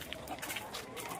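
Chickens cluck softly in a small backyard poultry enclosure, a few scattered clucks at moderate distance over low background noise.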